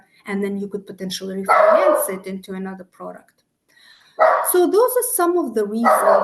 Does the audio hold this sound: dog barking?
yes